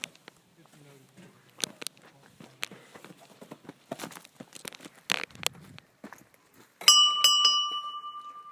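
A wrestling bell clangs loudly near the end of an intercontinental championship match, ringing several times and then decaying, after a stretch of scattered thumps and crowd bustle.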